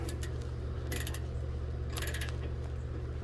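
A wrench ratchets on the exhaust screws of an Onan generator on a 2022 Tiffin Allegro RV, giving two short bursts of rapid clicking over a steady low generator-like hum.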